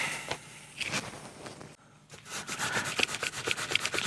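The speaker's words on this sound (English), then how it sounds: "Just a quick rubbing over, get the compound off." Cloth rubbing naphtha over the frets of a Pango Stratocaster kit guitar to clear off polishing compound, a close, steady scrubbing in quick back-and-forth strokes with a short pause midway.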